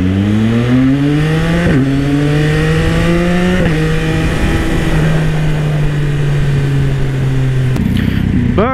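A Yamaha XSR900 motorcycle with an Orion exhaust revs hard and close, its engine pitch climbing through several rising sweeps with shifts between them, loud and sustained, with no talking.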